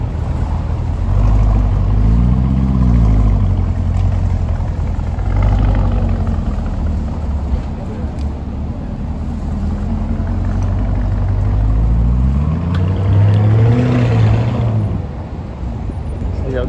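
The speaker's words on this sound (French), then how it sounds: "Le démarrage du Urus les amis." A Lamborghini Urus SUV starts up at a Paris supercar gathering, its deep engine rumble rising and falling through revs, with people talking over the noise.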